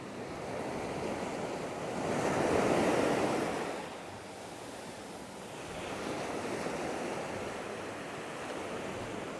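Surf rolling onto Nang Thong Beach in Khao Lak, Thailand, a steady wash of waves with one swelling surge early on and a softer rise later, mixed with light wind noise and no voices.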